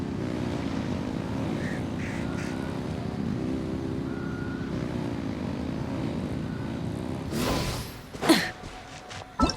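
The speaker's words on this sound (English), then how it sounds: "Rev the engines!" Engines rumble and drone steadily in a Genshin Impact game scene, a loud low hum with faint wavering tones, ending in a few sharp bursts and clatters.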